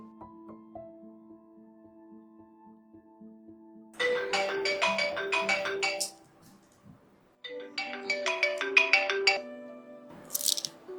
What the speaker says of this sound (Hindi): एक बार मैं प्रियांशी को फोन करती हूँ